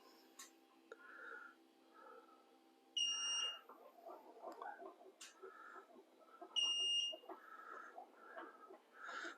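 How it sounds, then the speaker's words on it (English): Sharp electronic beeps from a Saris powered eBike rack as it lowers sound twice, a few seconds apart, over faint mechanical whirring and quiet clicks. "you do get a beeping sound to let you know and remind you that it is powered up"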